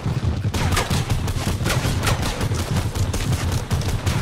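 Rapid, continuous crackling bursts fill a Fortnite match, like fireworks or fast gunfire going off close by, loud and dense with barely a gap.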